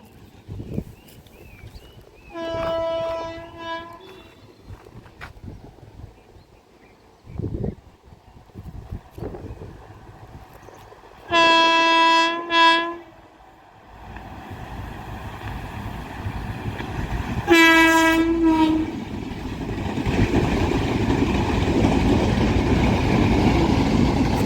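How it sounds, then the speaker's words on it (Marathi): A train passing near a Konkan village in summer, with repeated bursts of loud horn-like tonal blasts between quieter stretches of rumble and ambient noise, ending in broad steady roar as it goes by. "ट्रेन आली की काय आलं?"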